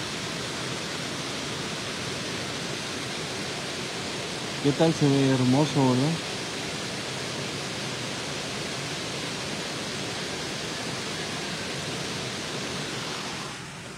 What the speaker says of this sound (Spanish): el sonido de la lluvia es súper relajante, del agua moviéndose, o en movimiento